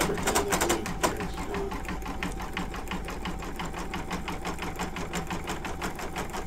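An embroidery sewing machine stitches an in-the-hoop coaster, its steady rapid needle clatter running continuously at moderate volume with a faint hum underneath.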